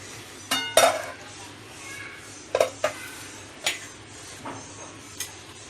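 Pressure cooker being opened in a home kitchen while making a Konkani bhanori and bhakorcha, with a handful of sharp metallic clanks and clinks of pots and lid spaced out over a low background hum.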